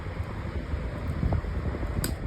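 Lasko 18-inch table fan with a new blade running on its high setting, giving a steady, close broadband whoosh of moving air with a faint tick near the end.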